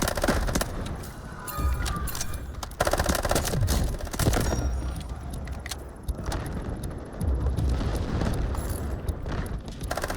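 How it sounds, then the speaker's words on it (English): An artillery barrage in a video game battle, heard as a dense, relentless wall of booms and crackling gunfire with sharp impacts throughout. "Artillery barrage incoming."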